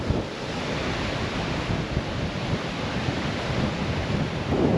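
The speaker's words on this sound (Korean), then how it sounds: "바람도 엄청 불고 이게 진정한 바닷바람" Strong sea wind roars steadily across the open coast at a lighthouse on Seuldo islet near Ulsan. It is loud and continuous, mixed with the rush of surf, and no voices are heard.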